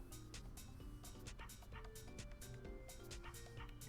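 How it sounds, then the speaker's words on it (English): Small yips and barks from a little dog woven into a song, recurring in short bursts over steady music at moderate volume. "I like the little barks in the song."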